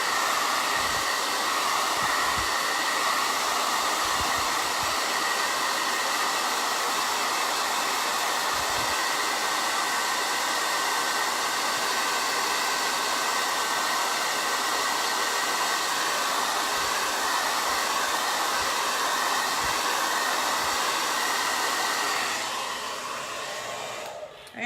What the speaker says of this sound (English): all I'm doing is blow drying it, because we have to put this other transfer on here, and we need this to be dry.